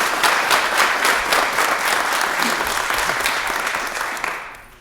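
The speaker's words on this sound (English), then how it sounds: "Let's have a round of applause for the Honorable Judge Dwayne Woodruff and former Pittsburgh Steelers." A city council meeting audience gives a judge and former Pittsburgh Steelers player a full, loud round of applause that holds steady, then thins and fades out at the end.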